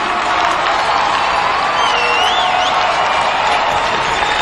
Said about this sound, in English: Big round of applause, please, London.